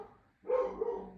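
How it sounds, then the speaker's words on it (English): A single loud bark from a dog, close by and alone, aimed at a delivery driver outside. "My dog is going to be barking because there's a delivery driver outside."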